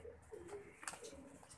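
Pigeons cooing softly in a loft among many birds, a few low rolling coos with a brief sharper call midway, fairly quiet and close.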